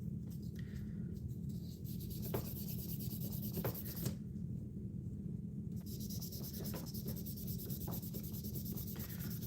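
Wet sanding with 2500 grit sandpaper works out scratches near a corner: a soft, continuous rubbing with brief scraping accents, close and fairly quiet.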